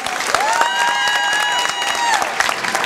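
Audience applause for the Casa Santa choir at an evening vocational music and singing festival, a steady wash of clapping with some cheering, running throughout under a sustained tonal hum.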